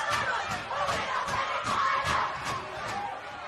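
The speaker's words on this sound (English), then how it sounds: "You can hear the crowd chanting out there." Spectators at a women's football match between APIA Leichhardt and Macarthur Rams chant in a steady rhythmic pulse, a crowd at moderate distance with regular beat-like accents.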